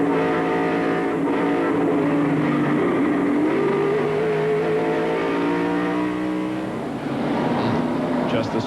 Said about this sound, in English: From the in-car, look and listen to Rusty Wallace's spin.